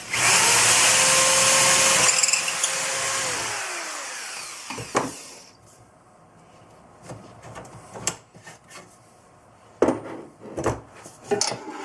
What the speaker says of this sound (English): So there's our 3 holes drilled.